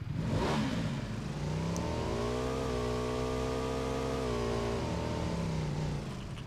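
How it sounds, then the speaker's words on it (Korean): A three-wheeled motorcycle engine in PUBG hums close and loud, climbing in pitch as it revs up, holding a steady drone, then easing back down, with no voices over it. "일단 3륜 오토바이 타고 갈게요."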